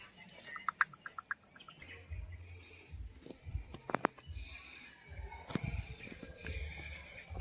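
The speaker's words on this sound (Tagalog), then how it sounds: "Daming ibon." Many birds chirp and tweet in a nature park in Davao City, Philippines, with scattered close and distant calls over soft outdoor ambience and occasional quiet voices and footsteps.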